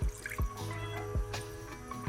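About half a cup of water is poured into a frying pan, giving a close series of splashy drips and trickles with a few sharp drop impacts, and no voices.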